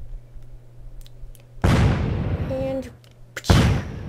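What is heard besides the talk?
cannon blast in the video game Happy Wheels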